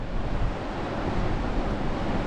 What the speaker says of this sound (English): There's some nice big waves out there today.